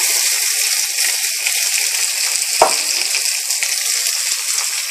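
Chopped onion and curry leaves sauté in hot oil in a pan, a steady close hiss of frying with one brief knock of a utensil midway and no talk.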